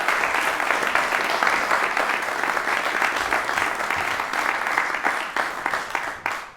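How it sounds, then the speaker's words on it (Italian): Sustained applause from a large theatre audience after a piano and violin performance, dense and steady for several seconds before thinning out toward the end. "E direi un altro grande applauso per questi due maestri"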